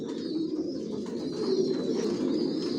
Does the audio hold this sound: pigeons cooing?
yes